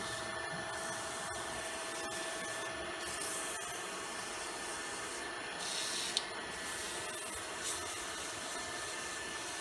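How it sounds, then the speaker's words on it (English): A piece is sanded by hand, making a steady, close, broadband rubbing hiss that runs without a break across the whole stretch, with no talking. "Now, when I do the base, I'll have to sand more"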